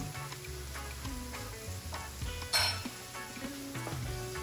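Seasoning stirred into a sizzling pan for spicy jerk shrimp rasta pasta, a continuous close sizzle with scraping stirs and a few light clinks of utensil on metal.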